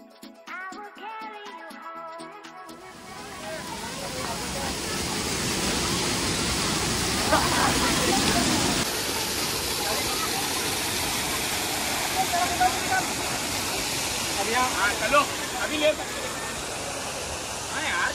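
A small waterfall below the Mullamari Dam roars with a steady broadband rush of falling water after a brief musical intro, loud and continuous throughout.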